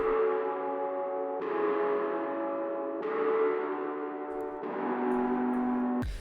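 Sustained piano chords turned into a pad, slowed to half speed with distortion and reverb, swell and change roughly every one and a half seconds in a smooth, hazy wash with no talking.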